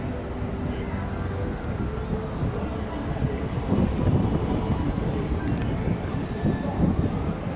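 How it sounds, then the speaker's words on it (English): Rain begins to fall with low rumbling thunder at a Melbourne railway station, a steady wash of drops building in loudness partway through and continuing to the end. "It's starting to rain, of course."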